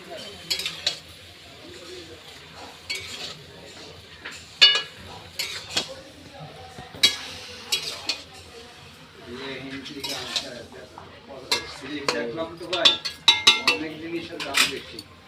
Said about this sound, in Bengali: এবার সব কিছু আমি আবারও ভালো করে কষিয়ে নেব।